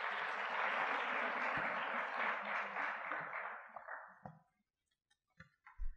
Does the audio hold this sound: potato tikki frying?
no